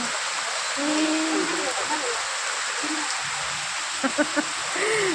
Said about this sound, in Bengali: বাইরে প্রচুর বৃষ্টি হচ্ছে, প্রচুর প্রচুর।